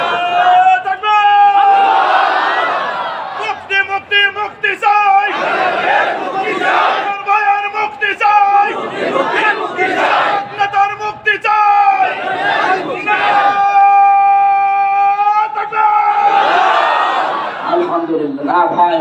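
A large crowd at an Islamic religious rally chants a rhythmic demand for someone's release in unison, loud and close, with repeated shouted bursts and a leading voice calling out between the chants.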